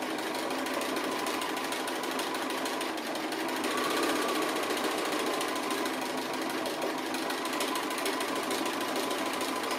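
Sewing machine running steadily while stitching a fabric appliqué, a continuous close whirring drone for the whole stretch with no pauses.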